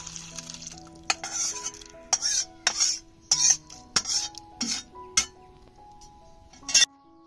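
Boiled banana flower is lifted off the stove and strained, bringing a run of sharp metal clinks and clatters of utensils against a strainer and pot, spaced irregularly over a faint background.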